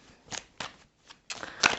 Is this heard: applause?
no